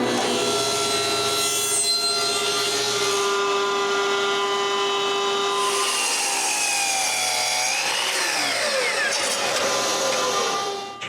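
A long, steady stretch of sustained cutting into cherry wood, worked into small cubes for Christmas ball ornaments, loud and close with a bright ringing tone that shifts pitch near the end, with no voices.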